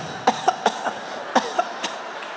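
A stand-up comedian vocally imitates people coughing, giving a string of about seven short, sharp coughs in two quick bursts, close and fairly loud with no words between them.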